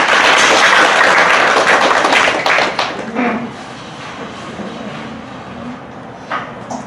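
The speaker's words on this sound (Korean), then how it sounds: "박수 한번" Audience applause at a book launch event for a short-story collection: a burst of clapping for a poet that swells for a few seconds, then thins out and fades to scattered claps and room noise.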